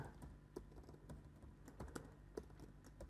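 Quiet keystrokes on a computer keyboard during a CSS animation coding lesson, a steady scatter of light clicks with a few sharper taps, close to the mic and heard alone without talk.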